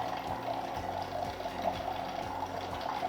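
Water pours steadily from a Hydra Luxe hydrogen water machine, a continuous close trickle with a faint mechanical pump hum underneath and a soft periodic ticking.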